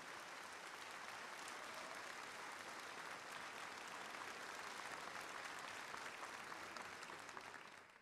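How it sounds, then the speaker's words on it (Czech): A studio audience at a celebratory radio show recording applauding for Tomáš Sláma in a steady, even wash of clapping that continues unbroken, heard somewhat distant and soft. "Potlesk pro Tomáše Slámu."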